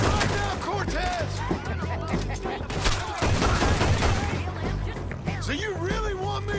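Gunfight in Red Dead Redemption 2, with rapid overlapping gunshots and a fusillade of cracks throughout, loud and close, under shouting voices.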